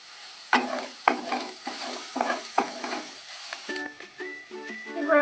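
Garlic and onion frying and being stirred in a pan for masala pasta: a series of rhythmic scraping stirs over a soft sizzle, close and moderate, followed by a few brief tonal squeaks.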